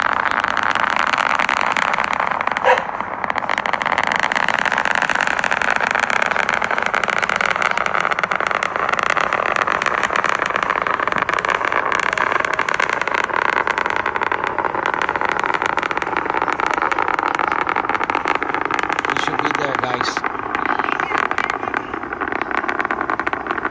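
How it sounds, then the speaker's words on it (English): A SpaceX Falcon Heavy launch roars from 27 Merlin engines, a continuous loud rumbling roar heard from a distance with slowly shifting tone as the rocket climbs, without voices. "We're hearing the roar of those 27 Falcon Heavy Merlin engines."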